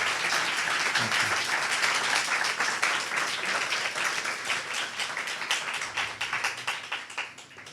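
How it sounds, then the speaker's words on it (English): Audience at a Hare Krishna scripture class giving a round of applause, many hands clapping loudly at first, then thinning into more separate claps as it slowly fades. "Let's give a big round of applause."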